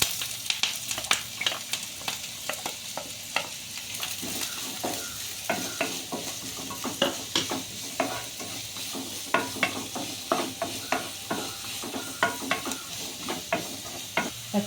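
Chopped onion fries in hot coconut oil for a prawn snack, a close steady sizzle broken by frequent rhythmic scrapes and clicks of a spoon stirring against the pan.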